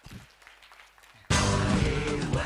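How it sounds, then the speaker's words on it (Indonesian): Audience applause at an ASN civil servants' learning festival in Bojonegoro, Indonesia, breaking out suddenly after a quiet moment and continuing loud and dense, close and steady to the end. "Tepuk tangan dong, tepuk tangan."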